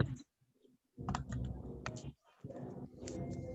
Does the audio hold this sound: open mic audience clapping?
no